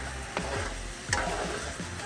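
Salmon bites frying in a honey sriracha garlic sauce in a pan, giving a steady close sizzle with a few soft clicks of a utensil as the pieces are flipped and stirred.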